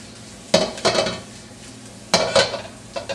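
Garlic going into a hot pan for Filipino papaitan, with two bursts of frying hiss and stirring clatter near 0.5 and 2.1 seconds, each fading over a second, then a smaller scrape near the end.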